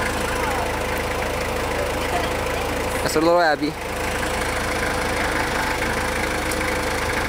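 A tractor engine idles with a steady low chugging throughout, while a voice speaks briefly midway over it.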